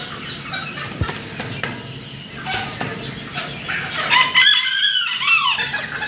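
Fancy Windsor-type chickens kept at a breeder's farm, clucking and calling nearby amid a general flock murmur, with a few sharp calls and a rising burst of squawking and flapping in the second half.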